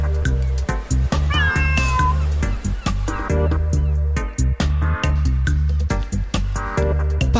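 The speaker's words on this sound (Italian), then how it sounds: "ho trovato qualcosa su questi miagolii" A cat meows loudly and repeatedly in drawn-out, wailing cries, close and dominant over a steady tonal background.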